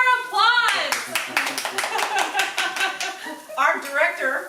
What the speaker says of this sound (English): Where's our applause?